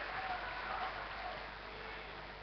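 A hall audience at a Malay-language speech breaks into dense, steady applause that fades slightly toward the end.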